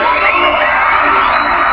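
An Olympic arena crowd at the 1988 Games cheering and whooping, a loud, dense roar of yells and shouts held steadily through the short stretch.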